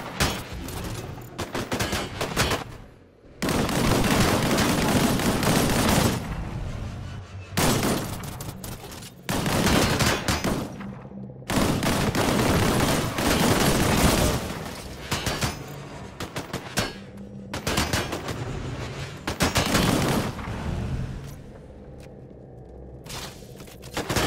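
Bursts of rapid gunfire from a primary weapon in the shooter game Disintegration, loud and close, coming in repeated volleys with short pauses between them.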